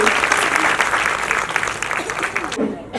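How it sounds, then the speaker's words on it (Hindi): Loud, dense audience applause fills a charity donation ceremony where an NGO is handing out computers and sewing machines, sustained for nearly three seconds with voices mixed in before it drops off sharply. "जोरदार तालियां बजाइए।"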